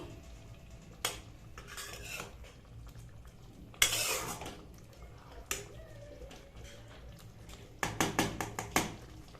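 A utensil scrapes and clinks against a pan as cumin powder is stirred into an egg curry. Scattered metallic taps and scrapes come close by over a faint sizzle, ending in a quick run of clinks.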